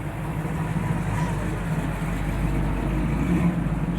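A Chevy Nova American muscle car with a full drag setup rolling in at a night car meet, a low rumbling engine drone held steady amid crowd noise, moderately loud.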